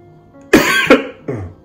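Three close, loud coughs from someone with a nasogastric tube in place, two rough bursts in quick succession followed by a softer third, heard alone with no talk.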